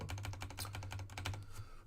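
Steady, rapid typing on a computer keyboard, with close, evenly spaced key clicks running throughout over a low background hum.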